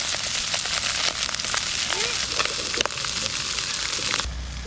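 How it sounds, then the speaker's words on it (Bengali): Mustard seeds tempering in hot oil in a wok beside a fried hilsa fish head, a continuous close sizzle with scattered crackles and pops that cut off near the end. "মধ্যেখানে আমি সর্ষে ফোড়ন দিয়ে দেবো"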